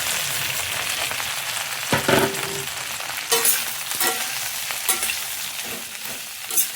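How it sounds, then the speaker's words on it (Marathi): Roasted makhana and poha being stirred in a pan for oil-free chivda, a steady sizzling rustle broken by several sharp scrapes and clinks of the spoon against the pan, close and without speech. "आता जो आपण मखाणे आणि पोहे भाजून घेतलेले तेही आता पण याच्यात टाकायचे आहे."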